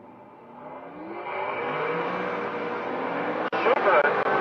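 Supercharged big block Chevrolet and supercharged LS hot rods launch in a drag race, their engines swelling into a loud, rising roar that builds and holds, with a sharp break near the end; commentary talk runs over it.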